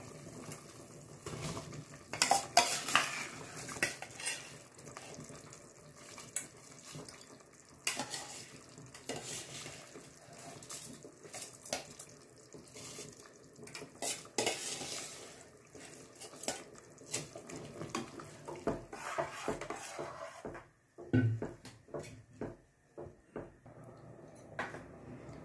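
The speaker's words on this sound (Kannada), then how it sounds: "ನೀರು ಕುದೀತಾ ಇದೆ." Basmati and jeera rice stirred into boiling water in a pot for veg pulao, with continuous scraping, clinking utensil and bubbling sounds at low volume throughout.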